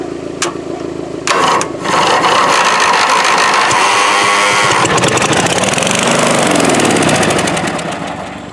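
A small twin-cylinder Briggs engine from a scrapyard cranks briefly, catches, and settles into a loud, steady running rumble with a rough, knocking note, close by, blowing debris from the exhaust.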